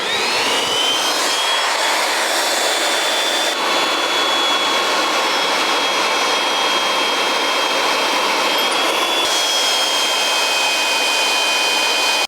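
A line boring machine cuts holes in an arbor press during restoration, a loud continuous whining drone with a steady high-pitched tone holding for the whole stretch.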